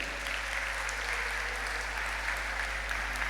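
An audience applauds for a class at a school language-department event, a steady wash of clapping from many hands that lasts throughout at moderate distance.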